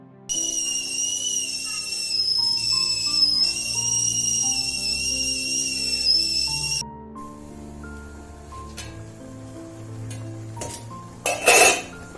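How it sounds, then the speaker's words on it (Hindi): Pressure cooker steaming dhokla on a gas stove lets out a loud, steady, high whistle for several seconds, then stops, followed by quieter kitchen clinks and a short hiss near the end. "इसमें एक सीटी और लगाऊंगी"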